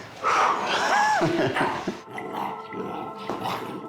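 Young puppies at an animal rescue centre play rough close by, with yips, whines and low growls in quick, overlapping bursts and scuffling in between.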